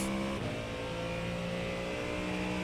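A Mustang race car in iRacing drives at Monza, its engine a steady, loud drone with a clear tonal whine that dips briefly early on, then holds even.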